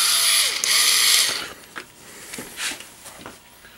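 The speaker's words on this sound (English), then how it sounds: "This is a rechargeable screwdriver" A cheap Harbor Freight rechargeable screwdriver whirs for about a second and a half, then gives a few short clicking and ratcheting bursts, close up.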